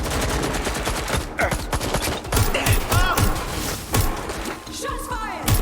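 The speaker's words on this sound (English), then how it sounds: "Shots fired!" Rapid bursts of gunfire crackle through a Watch Dogs Legion firefight, loud and close, with repeated sharp shots and volleys spread across the whole stretch.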